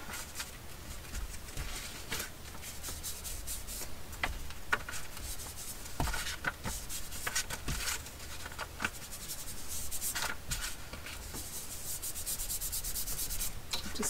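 Ink being rubbed across a paper envelope flap to distress it makes a steady, soft scratchy scrubbing sound, close and continuous with small taps and strokes, with no talking.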